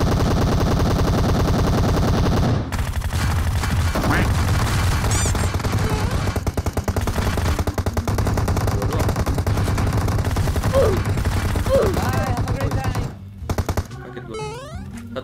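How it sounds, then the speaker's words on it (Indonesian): Rapid automatic gunfire from a PUBG Mobile match, aimed at vehicles, rattles on nearly continuously and loud over game music and effects, then drops away near the end. "Kenapa mobilnya ditembakin?"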